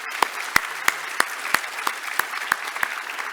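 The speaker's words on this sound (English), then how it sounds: "let's give her a round of applause" Slow, evenly spaced claps from a small group, about ten sharp beats over a few seconds with no talking.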